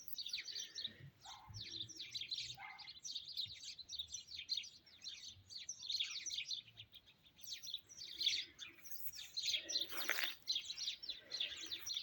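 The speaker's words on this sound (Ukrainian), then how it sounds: "Горобці співають просто хор." Many sparrows chirp and twitter all at once in a dense, continuous chorus in a spring garden in the evening, fairly faint and somewhat distant.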